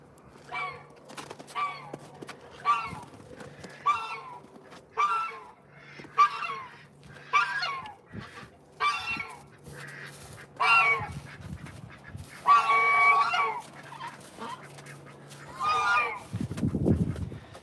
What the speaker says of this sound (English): Do you guys see the goose in there?